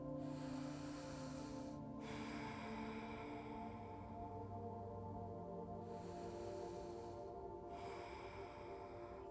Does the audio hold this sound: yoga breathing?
yes